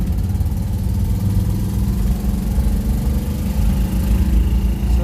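Small Isetta microcar engine pulling in second gear on a quiet road, a steady buzzy putter with a low throbbing hum, close and continuous, rising slightly as it gains speed, no talk.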